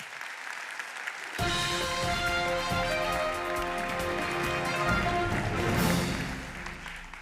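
A conference audience at FutureHealth Basel applauds speaker Bryn Roberts: after a quiet start, steady clapping swells in and continues over music-like tonal sound, peaking near the end.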